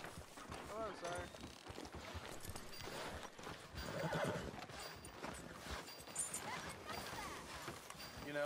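A horse neighs and its hooves clop steadily in a busy town scene, the whinny rising midway over a dense mix of movement and people talking.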